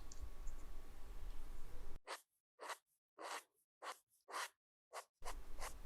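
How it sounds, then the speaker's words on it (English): A Samsung S Pen scratches across a Galaxy Tab S6 Lite screen in six short, rough strokes separated by brief pauses, with faint room noise before and after. "I think that you can hear a lot more friction."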